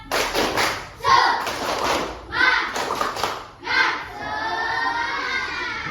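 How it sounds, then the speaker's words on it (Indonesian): A standing group claps out a rhythmic cheer in several short bursts, with voices chanting along. The last burst trails into a held, sung-out voice. "Tepuk semangat."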